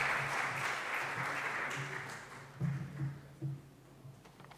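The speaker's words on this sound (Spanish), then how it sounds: "yo les propongo que le brindemos un aplauso a la doctora Casado por esta presentación." Audience applause after a lecture on bioethics, a steady wash of many hands clapping that fades over several seconds, with a few louder thumps near the end.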